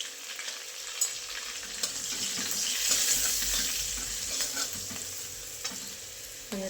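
A Marathi tempering of turmeric and coriander sizzling in oil, a soft, steady hiss with faint stirring scrapes and clinks, fairly quiet and close, with no talk.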